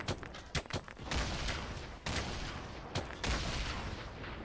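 Gunfire in the Fortnite Battle Royale video game: a handful of sharp, cracking shots spaced irregularly, some close and punchy, others softer, over a constant rumbling game ambience.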